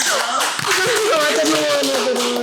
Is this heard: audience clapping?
yes